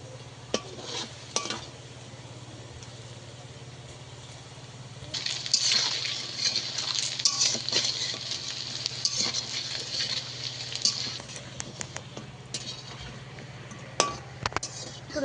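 Mocha (banana flower) snack balls frying in hot oil, a steady low sizzle with scattered clinks and stirring scrapes in a kitchen, growing busier partway through.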